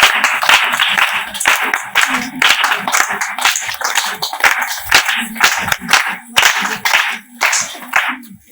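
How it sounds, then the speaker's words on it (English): Dense clapping from a school audience at a primary academic debate, a steady burst of many hands filling the room for the participants, with a few voices calling out over it. "Let's clap for our today's participants."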